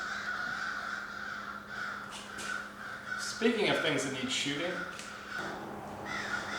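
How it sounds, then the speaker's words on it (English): Crows caw harshly outdoors while fighting a seagull, several loud rasping calls in an irregular flurry, the squabble mixed with someone talking nearby. "Crows are out there trying to fight a seagull."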